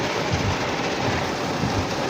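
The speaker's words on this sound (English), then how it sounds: "it's raining pretty good again" Heavy rain pours steadily during a slow-moving coastal storm over flooded streets in Saint Lucie County, a dense, loud, close wash of noise with no break.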